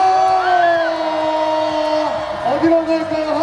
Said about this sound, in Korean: 우리 역전을 위한 함성을 들어보겠습니다.